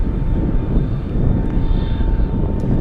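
An Atlas cargo jet known as the Giant, arriving from Miami at Anchorage on a gusty day, gives a loud, steady roar of jet engines mixed with broad wind rumble, with no break throughout.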